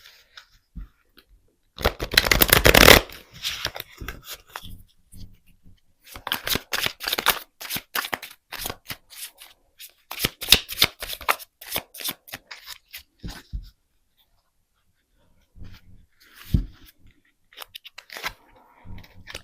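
Tarot and Lenormand cards handled and shuffled for a reading, giving brisk papery riffles and crisp snapping bursts in irregular clusters, with a louder flurry near the start and sparser handling toward the end, close and with no talking.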